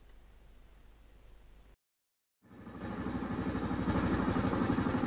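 A Honda Innova ANF125 motorcycle engine idles steadily and close by, a low rumbling chug after a brief gap of silence, then growing louder and holding.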